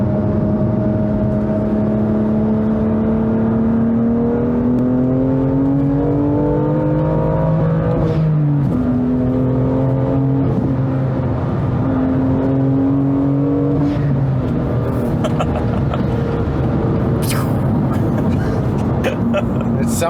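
BMW M2 Competition with a manual gearbox, its engine droning and revving steadily while driving, with pitch rising through gears and dropping at shifts, loud and close, with people talking over it.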